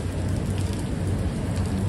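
Heavy rain pours down on a Manhattan street during a storm. It makes a dense, steady hiss with a low rumble underneath, loud and unbroken throughout, with no voices.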